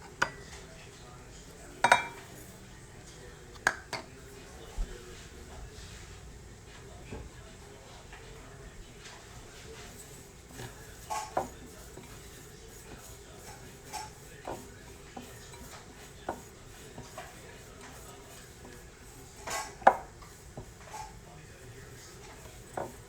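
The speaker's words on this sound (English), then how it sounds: "So we're just gonna mix the cheese" Cheese and Italian seasoning are mixed in a bowl, with intermittent clinks and scrapes of a utensil against the dish, irregular and close, under a low background hum.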